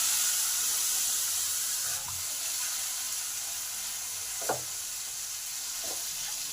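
Spice paste mixed with tomato paste stir-fried in a pan for a cauliflower and egg curry, giving a steady close sizzle with a few soft scrapes of a spatula.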